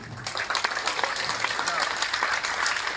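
A large audience at a motivational seminar claps hard and fast in a dense, continuous burst of applause that is loud and close.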